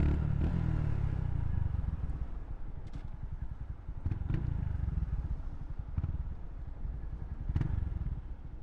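A Honda Grom MSX125 motorcycle is ridden with its small single-cylinder engine droning steadily and close up, mixed with heavy wind rumble and occasional clatter and bumps, with no talking.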